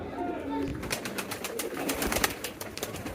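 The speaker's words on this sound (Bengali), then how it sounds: "যে দেখতে পাচ্ছেন আমাদের এক্সিবিশন কবুতর একটা দেখা যাচ্ছে" Exhibition pigeons coo softly in a loft, faint low calls mixed with clattering and rustling, with a person talking nearby.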